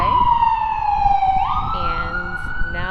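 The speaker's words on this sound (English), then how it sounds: "there's an ambulance passing by as we speak" An ambulance siren sounds on a New York City street, a loud wailing tone that sweeps down then jumps higher as it passes nearby, over a low rumble of traffic.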